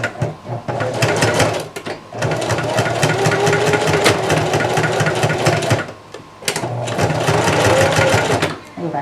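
A sewing machine stitches a chest strap for a vest kit with the whole presser foot down, running in steady rapid bursts with short pauses between passes, close and loud.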